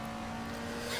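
An Alfa Romeo 33 Stradale in a historic race at Kyalami in the Assetto Corsa racing game locks its tyres under braking, giving a steady, loud engine drone and tyre scrub throughout a short moment.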